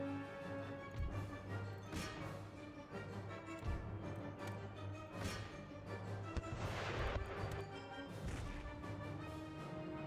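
Howitzer artillery fire on an Empire Total War battlefield during a decisive battle at Warsaw, with repeated booming shots at irregular intervals over continuous battle noise, some close and loud, others more distant.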